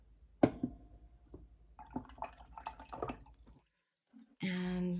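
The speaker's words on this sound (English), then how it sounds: "I'm just gonna switch out to some clean water." Water drips and sloshes softly as a paintbrush is rinsed and a jar is swapped for clean water during a watercolour and acrylic art journal session. Small clinks and splashes lead to a brief louder pour at the end.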